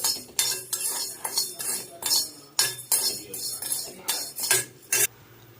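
Pearl millet grains roasting in a pan, stirred with a metal spoon that scrapes and clinks against the pan in a steady repeated rhythm, close and fairly loud, with no talking.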